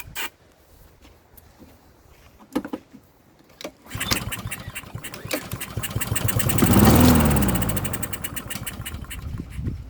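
A Honda GCV160 lawn mower engine with a carburetor fault starts after a few clicks and thumps, runs and revs up loudly for several seconds, then sputters out toward the end, with a person talking.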